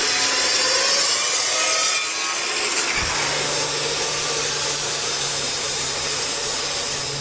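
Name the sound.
cutting down coilover shock part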